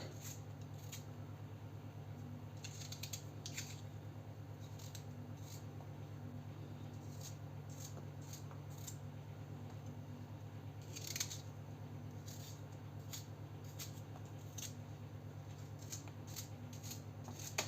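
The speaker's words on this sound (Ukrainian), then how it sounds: "Тепер беремо почищені яблука і нарізаємо на отакі кубики." A knife chopping peeled apples into cubes for an apple cake, with soft repeated cuts at an uneven pace, near and fairly quiet over a steady low kitchen hum.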